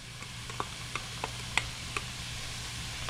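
Onions stirred in a hot pan for taco stuffed shells, giving a low steady sizzle with a handful of light scraping ticks spread through it and no talk.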